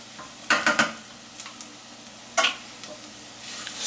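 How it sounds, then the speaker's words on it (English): Ground cinnamon, cloves and coriander sizzle softly in a pan for yellow split pea daal, and a utensil scrapes and taps as it stirs them, in a few short clattering bursts over a steady low frying hiss. "Stir that around a little bit."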